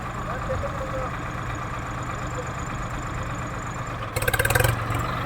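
A Swaraj 855 tractor engine running steadily at 1000 RPM, with an even mid-low droning hum throughout and a brief rattling burst near the end. No one speaks.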